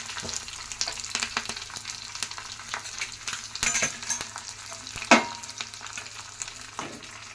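Curry leaves dropped into garlic already frying in a pan for garlic rice: a bright crackling sizzle with scattered spatula taps and clinks, a sharp burst of spitting oil midway, close and without voices.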